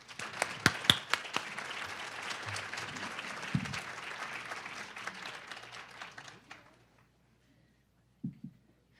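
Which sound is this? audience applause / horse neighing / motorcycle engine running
audience applause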